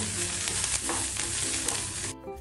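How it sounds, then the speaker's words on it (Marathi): Chilli pieces roasting in a hot pan for a rustic pigeon-pea amti, giving a steady loud broadband sizzle and crackle that runs continuously for about two seconds, then drops away abruptly near the end. "मिरच्या घालूया पॅनमध्ये. मिरच्यांचे तुकडे सुद्धा छान डाग पडेपर्यंत भाजून घ्यायचे."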